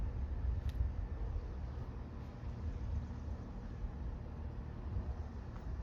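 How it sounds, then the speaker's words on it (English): An outdoor air conditioner condenser unit runs as a steady, even low hum and whoosh, fairly close, with no change and nothing else over it. "Sorry if you can hear the condenser unit running in the background."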